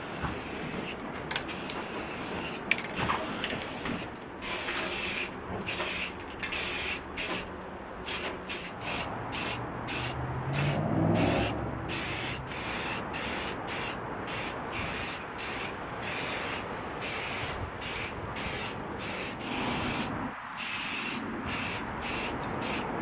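A spray can coats a Bergen backpack in repeated close bursts of hissing, short rhythmic pulses broken by brief pauses, with a soft rumble of movement partway through.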